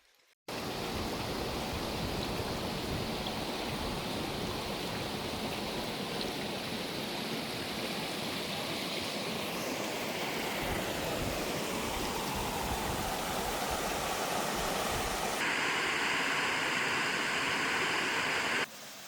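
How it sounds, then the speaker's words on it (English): A stream rushes steadily along a hiking trail in Fundy National Park, a continuous broadband water roar that stays close and even throughout with no voices. "You can hear the water."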